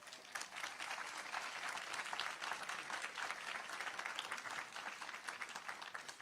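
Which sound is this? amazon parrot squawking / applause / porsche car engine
applause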